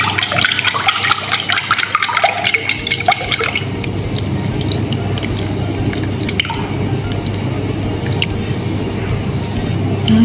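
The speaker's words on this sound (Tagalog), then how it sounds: "Ilagay na natin yung ating egg na binit kanina. Ayan na siya. Ibubuhos lang natin." Beaten egg is poured into a hot pan, giving a continuous wet sizzling and squishing that starts at once and holds steady, close and loud.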